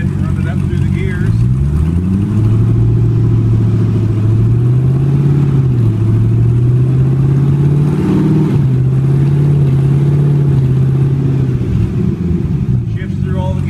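A car powered by a Speartech LS9 V8 accelerating up through the gears, a loud, close engine drone that rises, drops at each shift and climbs again, then settles into a steady cruise.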